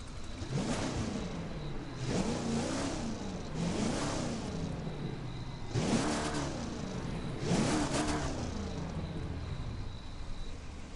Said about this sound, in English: I want to hear what this sounds like when I rev it.